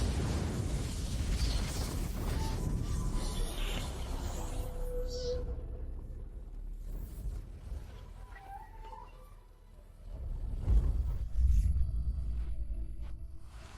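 A deep, rumbling blast booms up near the end after a stretch of low, rolling noise, loud and heavy without any speech.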